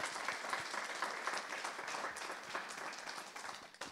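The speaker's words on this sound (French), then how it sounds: "Et on peut l'applaudir." Audience applause welcomes sailor Tom Laperche at a café event in Lorient: dense, steady clapping throughout, fading slightly at the end.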